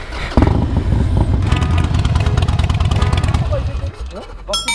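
A Harley-Davidson Sportster XL1200 runs with stock, non-quiet exhaust baffles, giving a loud, continuous, throbbing engine drone while riders talk over it.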